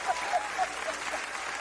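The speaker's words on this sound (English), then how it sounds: "Let's give him a great round of applause" A live audience gives a sustained round of applause to welcome Danny Lewis, a steady dense wash of clapping that runs evenly throughout without any speech over it.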